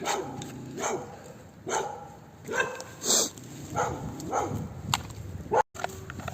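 A dog barks repeatedly in a forest area, sharp single barks spaced about a second apart, moderately distant and fairly loud, with no talking over them.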